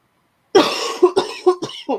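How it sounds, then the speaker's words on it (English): After a moment of silence, a burst of harsh coughing, several rapid hacking coughs close to the listener. "so I'll probably be coughing"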